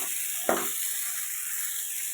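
Onions saute in a pan for a homestyle onion sambar, a steady close sizzle with one soft stirring knock near the start.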